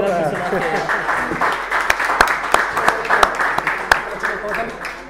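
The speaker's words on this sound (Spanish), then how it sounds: "les pido un gran, aplauso para Pancho Irra" Audience applause welcoming a guest at a live brewpub show, a sustained wash of clapping with sharp individual claps standing out, voices faintly underneath.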